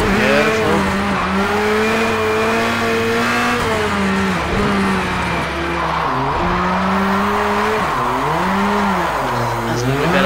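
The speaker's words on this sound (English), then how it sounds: "Good handbrake to get us around." Race car engine revving and dropping through gears in Project Cars 2, with tyres skidding and squealing through a handbrake turn, loud and continuous throughout.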